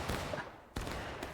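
Gunfire crackles faintly in a historical-rules video game battle, with a few dull, distant shots and a sharper report near the middle, set against a low background hiss.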